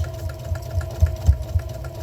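Sewing machine stitching around a washable kitchen sponge, a steady low mechanical hum with a regular thumping rhythm, close and continuous.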